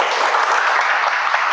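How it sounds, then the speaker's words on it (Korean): Steady, dense clapping from a crowd, loud and continuous throughout with no voices standing out. "큰 박수 부탁드리겠습니다"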